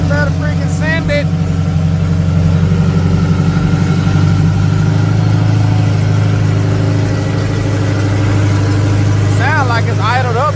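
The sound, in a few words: race car engine idling high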